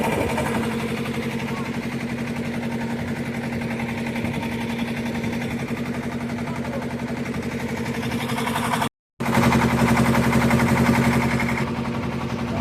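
A shallow engine boat motor runs steadily and loudly close by, a continuous droning hum with a strong low tone that cuts out briefly before resuming.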